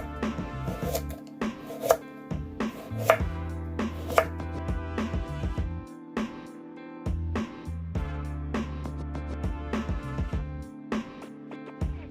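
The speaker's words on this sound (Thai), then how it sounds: "หลังจากนั้นเราก็จะมาหั่นแครอท" Steady rhythmic knife chops on a cutting board, crisp close-up thuds as carrots are sliced, repeating at an even pace with no talking.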